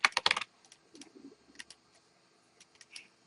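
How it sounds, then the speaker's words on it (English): Fast clattering keystrokes on a computer keyboard open the clip, followed by a few sparse, softer key taps in a quiet room. "type it in"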